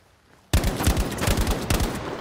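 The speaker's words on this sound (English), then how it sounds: "Dude beside the house, he's got an MG." Machine gun fire in a video game bursts in after a short quiet, a rapid, continuous string of loud, close shots rattling for well over a second.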